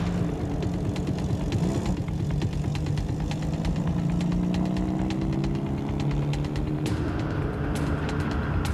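A speed record motorcycle engine revs under full throttle, a strong droning tone climbing in pitch over several seconds, heard steadily at moderate distance with a shift in tone near the end.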